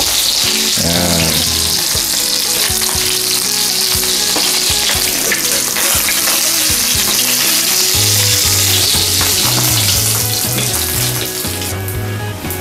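Mackerel fries in a hot oil pan with a loud, continuous crackling sizzle that keeps steady for the whole stretch, with no voices.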